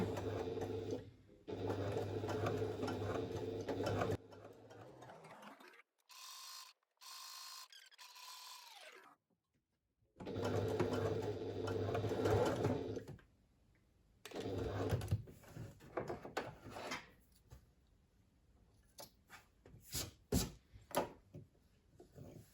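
A sewing machine top stitches a pouch at a long stitch length, running in several steady bursts separated by pauses and brief clicks, with some back stitching at the start and finish.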